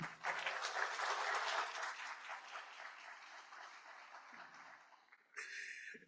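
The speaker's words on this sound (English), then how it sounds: "Please give them a round of applause this morning." An audience at a plenary event gives guests a round of applause, loud clapping at first that thins and fades over several seconds, followed by a brief burst of another sound near the end.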